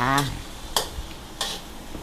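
Glass noodles being stir-fried with light soy sauce and fish sauce in a home kitchen, a faint sizzle under a brief voice at the start, broken by a couple of sharp utensil scrapes against the pan.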